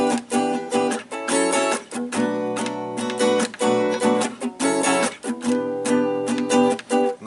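Close, clear acoustic guitar chords strummed in a steady funk groove, the accents landing squarely on the downbeat, with short rhythmic stabs and no voices.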